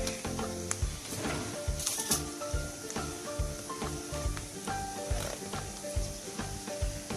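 Tomato paste sizzles in a pan with boiled potatoes, giving a close hissing crackle broken by repeated clinks and scrapes of a spoon stirring.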